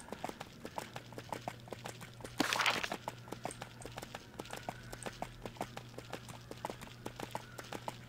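Horse hooves galloping in the video game EverQuest II, a fast, even run of light clip-clop beats under a steady low hum, with a brief louder burst partway through.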